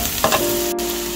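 Onion with ginger paste and garlic paste frying in a pan, a brief loud hiss with a couple of quick stirring clicks at the start, close with no voices.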